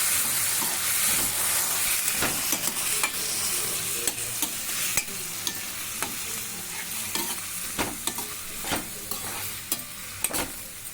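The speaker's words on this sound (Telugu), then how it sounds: "టమాటాలు వేసుకోవాలి టమాటాలు వేయించుకోవాలి మంచిగా" Tomatoes for restaurant-style tomato soup frying in a pan give a steady close sizzle and hiss. Frequent short spoon scrapes and clinks from stirring run through it, with no voices.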